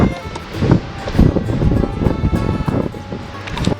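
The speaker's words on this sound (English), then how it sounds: "The wind is pretty strong." Strong gale-force wind buffets the microphone outdoors in uneven gusts, a loud rough rumble with rustling, steady across the whole moment.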